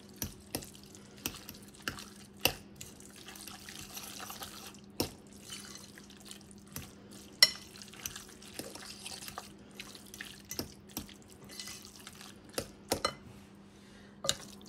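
A spoon stirs a breadcrumb, parsley and herb filling for gratinated christophines in a bowl, giving sparse light clinks and taps over a faint steady hum, with no talking.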